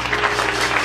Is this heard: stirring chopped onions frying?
no